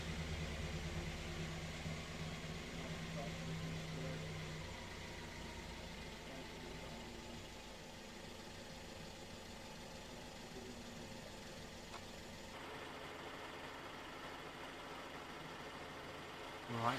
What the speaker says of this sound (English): you can hear the engine dipping.